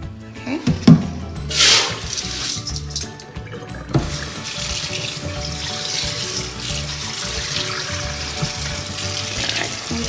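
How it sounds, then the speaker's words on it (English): Cold tap water runs over rice in a metal strainer in a sink, a steady close splashing rush with a few louder clatters and bursts near the start, continuing evenly throughout. "What I'm gonna do is rinse the rice in cold water."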